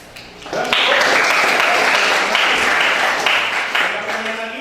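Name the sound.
classroom applause for a student group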